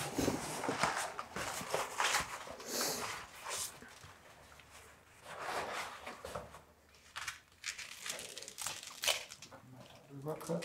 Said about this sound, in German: Dann können wir eigentlich die Membrane abwickeln.